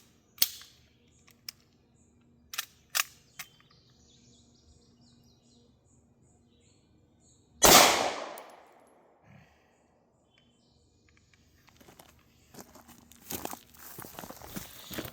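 A single sharp, loud Hi-Point C9 pistol shot rings out at an outdoor shooting test, its echo decaying over a second, preceded and followed by scattered faint clicks, handling noises and distant birds.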